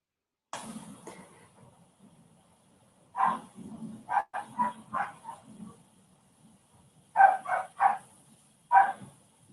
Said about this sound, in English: that's a dog in my background